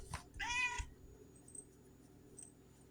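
An indoor house cat gives two close meows, the second longer and more drawn out, over a quiet steady room hum, then fades to faint ambient sounds.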